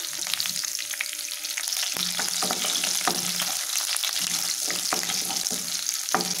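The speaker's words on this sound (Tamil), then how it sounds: "கடுகு பொரிஞ்சதும் பொடியாக கட் பண்ண பூண்டு, கருவேப்பிலை, கட் பண்ண பச்சை மிளகாய் முதல்ல சேர்த்திடலாம்" Garlic, curry leaves and green chilli fry in hot oil with popped mustard seeds, making a loud, continuous crackling sizzle with scattered sharp pops and spatters close by.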